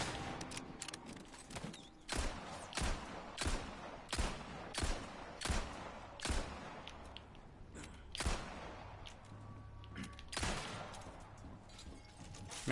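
Gunfire at an enemy in the video game Resident Evil 4: a rapid series of sharp, loud shots at irregular half-second to one-second intervals, with no talking.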